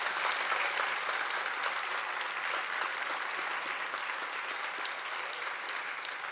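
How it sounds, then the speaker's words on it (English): Steady, moderately distant applause from a municipal election forum audience for the candidates, an even wash of many hands clapping with no breaks. "If you can all join me in a round of applause for our candidates and thank them for being here."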